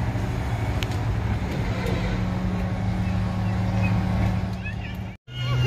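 A ferry boat's engine on the Brahmaputra drones continuously with a low, steady mechanical hum, broken by one brief dropout near the end.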